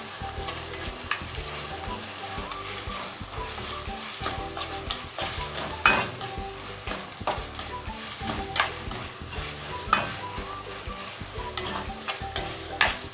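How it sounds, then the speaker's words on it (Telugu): Ginger paste frying in a pan for gongura prawns, a loud, steady sizzle close by, with repeated scraping stirs and small utensil knocks throughout. Nobody speaks. "అల్లం పేస్ట్ కూడా బాగా ఎర్రగా వేగిపోవాలి"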